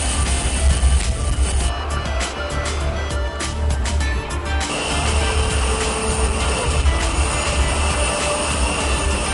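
A jet airplane carrying Chad's president departs, its engines giving a steady, loud roar that fills the whole stretch without pause.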